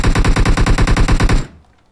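An M4 assault rifle in the mobile battle royale game PUBG Mobile fires a loud, close, rapid full-auto burst of about fifteen sharp shots, then cuts off and fades to quiet, with no talk.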